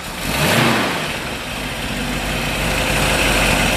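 A 1967 Shelby GT500 Fastback big-block V8 fires up with a quick rising revv, then settles into a loud, deep, steady idle that holds close and constant.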